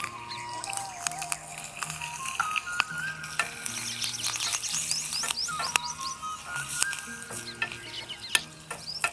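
Curry leaves crackle and sizzle in hot oil while tempering with asafoetida and green chilli for a light poha and buttermilk snack. The frying spatters steadily with stirring scrapes, under faint background music.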